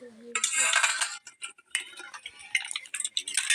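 Boiled jackfruit is tipped from a pressure cooker into a bowl, with close metallic scraping and clinks of a spoon against metal, some sharp taps and brief gaps between them.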